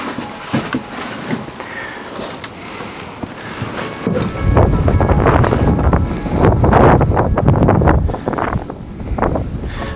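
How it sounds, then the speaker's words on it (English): Strong wind buffets the microphone outdoors at Factory Butte, Utah, as a loud, continuous roar that starts light and swells to heavy gusts. "It's really windy, so let's just go see."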